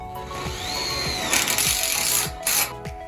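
Power drill driving number 12 by 1 inch framing screws with 5/16 heads into metal tubing, a whining motor rising in pitch, then a harsher grinding burst as each screw bites, close and loud.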